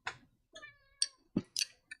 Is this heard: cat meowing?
yes